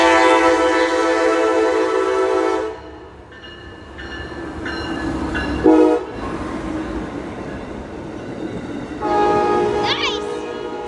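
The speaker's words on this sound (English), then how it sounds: "First train catch today, guys! This is crazy! Holy crap! Amtrak!" An Amtrak passenger train sounds a long, loud horn up close, then rumbles and clatters past on the rails, with another horn blast near the end.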